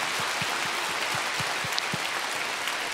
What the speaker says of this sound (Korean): 성삼위 하나님께 우리 감사의 박수, 영광을 올려드리겠습니다